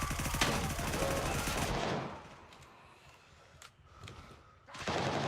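AK rifle bursts in the shooter game Gray Zone Warfare, a rapid close volley for about two seconds followed by scattered single shots and a final burst, faint overall.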